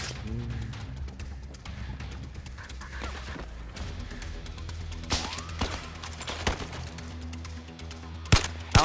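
Sharp rifle shots crack out in the VR shooter Zero Caliber, a few scattered bursts rising above a dense, busy game soundscape, with the loudest reports landing near the end.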